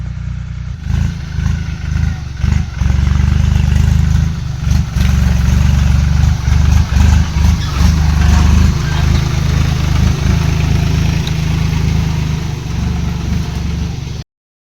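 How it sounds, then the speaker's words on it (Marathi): A tractor engine runs steadily close by, a loud, continuous low rumble that holds for about fourteen seconds before cutting off. "आलं ट्रॅक्टर आपलं."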